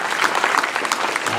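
A church congregation applauds the Lord during a bilingual English–French worship service, a dense, steady wash of many hands clapping at close range with no pause.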